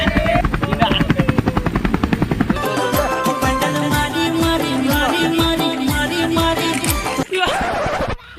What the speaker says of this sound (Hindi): वो हेलीकॉप्टर में उतरने वाला है